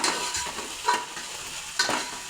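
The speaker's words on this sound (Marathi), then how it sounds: "हे बघा भाजीत पण आपण तीळ टाकूया" Sesame seeds go into vegetables frying in a pan, giving a soft continuous sizzle broken by a few louder stirring scrapes and crackles, close up, with no talking.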